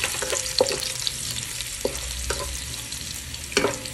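Ginger sautés in a reduced amount of oil, a constant soft sizzle marked by a few sharp taps and scrapes of a spatula against the pan.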